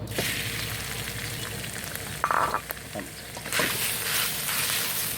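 Minced quail stir-frying in a generous amount of vegetable oil for a dry Thai spicy quail dish, giving a steady, loud sizzle throughout, with a brief burst of stirring and scraping near the middle.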